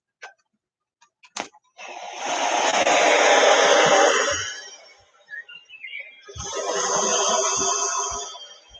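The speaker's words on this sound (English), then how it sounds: "I have a sound machine that I use at night, and it's nice because it has some nice waves" Bedside sound machine playing ocean waves, two long swelling washes of hissing surf, each rising and fading over a few seconds, with a few faint clicks beforehand.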